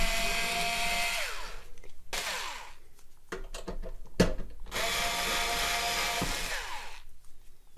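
A small handheld power tool drives screws out of an amplifier's top cover, whirring loudly in two long runs with a clattering gap of short bursts and clicks between them, alone without speech.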